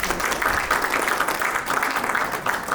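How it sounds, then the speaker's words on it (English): An audience at a community health awareness event in Guru Ravidas Bhavan gives a round of applause, steady, fairly close clapping that holds without pause for the few seconds heard. "So big round of applause for Surinder."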